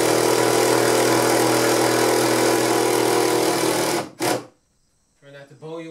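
A power driver fastens a window in place during a window installation, whirring loudly and steadily for about four seconds before cutting off abruptly, then brief talk follows.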